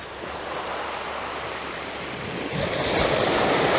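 Surf washing onto a beach at low tide, a steady broadband wash of breaking waves that swells slightly louder toward the end, with no voices.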